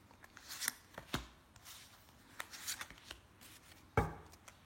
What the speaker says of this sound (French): Alors, déjà je vais tirer 3 cartes pour lui.